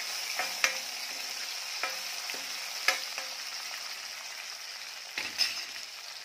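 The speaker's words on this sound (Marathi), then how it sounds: "आता यामध्ये टोमॅटो टाकायचा" Tomatoes fry with golden onions in a pan for drumstick curry, a steady, moderate sizzle. A few spoon scrapes and clinks punctuate it, with no talk.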